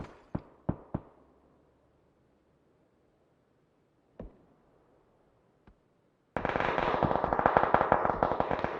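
Gunfire in the video game PUBG: a few sharp isolated shots with long quiet gaps, then a sustained rapid burst of automatic fire near the end.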